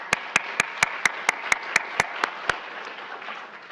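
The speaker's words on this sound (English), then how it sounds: "Please join me in giving her a warm round of applause" Eleven or so sharp, evenly spaced claps ring out one after another over a low background hum before a health talk, a slow rhythmic clapping that stops partway through.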